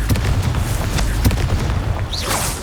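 A Confringo fire spell in Hogwarts Legacy blasting out as a deep rumbling boom, followed by a rising whoosh near the end.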